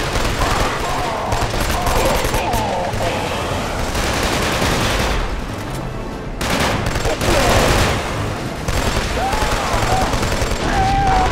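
Loud, sustained machine gun fire during a Killzone 2 battle, with rapid overlapping bursts and heavy combat din that carry on almost without a break, and a voice speaking now and then.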